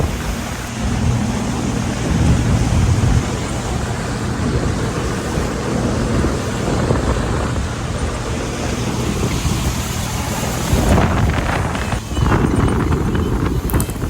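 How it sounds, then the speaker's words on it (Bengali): A speedboat runs flat out across the sea near Half Moon Beach in Saudi Arabia, with a loud continuous roar of engine, wind and splashing water that surges and thumps over the waves, and no talk. "এবার তুমুল স্পিডে চলছে আমাদের স্পিড বোট।"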